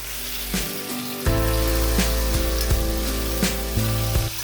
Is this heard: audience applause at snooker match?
no